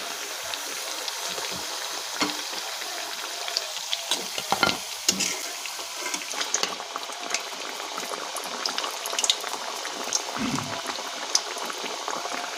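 Onion vada batter frying in hot oil gives a steady, bubbling sizzle close by, with occasional stirring scrapes and no voices.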